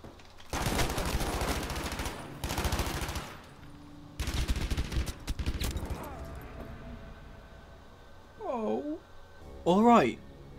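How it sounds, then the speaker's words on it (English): Gunfire in the battle royale video game Battlefield 5 Firestorm: three loud broadband bursts of rapid shots in the first half, followed by quieter scattered sounds and two short tonal, voice-like swoops near the end. "I knew I could hear someone. Where did that shot come from?"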